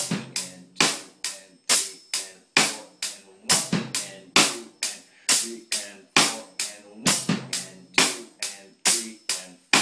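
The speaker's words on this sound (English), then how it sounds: "We're gonna add another bass drum on the E of one." A steady drum groove of punchy kick hits with snare and cymbal accents repeats in a regular pattern, loud and alone without any talking.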